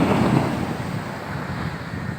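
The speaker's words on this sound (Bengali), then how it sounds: "এই মুহূর্তে এই সাগর সমুদ্র সৈকত" Sea waves and wind at Kollam beach in Kerala, a steady, dense roar of surf with wind buffeting the microphone, loud and continuous throughout with no voices.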